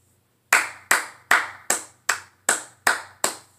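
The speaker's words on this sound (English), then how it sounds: "You gotta clap for that" Eight sharp hand claps in a slow, even rhythm, each a crisp close-up smack with a short decay, set against near silence.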